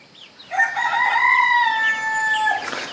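A mother hen near her baby chicks gives one loud, drawn-out, harmonic call lasting about two seconds, close by and clear, with no talking.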